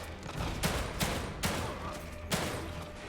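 Gunfire in the video game The Evil Within 2, several loud shots in a quick uneven series, each a sharp bang with a short tail over steady game background noise.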